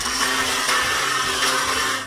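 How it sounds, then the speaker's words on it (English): A traditional kitchen blender running at full speed, giving a loud, steady motor whir with a harsh grinding hiss throughout and no voices. "Here's a traditional blender."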